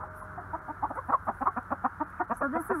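A hen clucks in a quick, irregular series of close, moderately loud calls in a backyard flock, with faint background noise.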